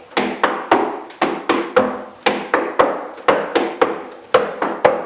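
Clogging steps beat out on a hard floor: sharp percussive heel and toe taps in quick clusters of two and three, close and crisp, repeating in an even walking rhythm with no talk.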